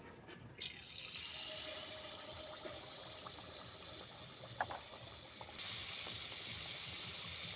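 Pitha batter pieces dropped one by one into hot oil in a kadai, giving a steady, fairly quiet frying hiss with a brief splash or clatter partway through and the sizzle swelling louder near the end.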